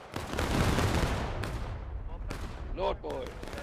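A volley of muskets cracks out together on a shouted command during a multiplayer War of Rights battle, rolling into echoing shots, with voices talking over the aftermath.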